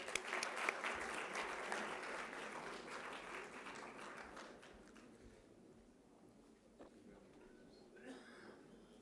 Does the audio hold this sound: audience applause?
yes